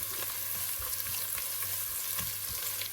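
Ginger and cumin seeds frying in a pan for a soya chunks masala, a steady, dense sizzle that carries on unbroken at an even level, close up, with faint stirring and no voices.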